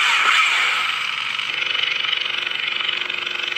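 A Korbanth Crossguard 2.0 lightsaber with master chassis ignites on the KSIF sound font, a bright crackling burst settling into a buzzing, pulsing hum with a rapid flutter, close and loud.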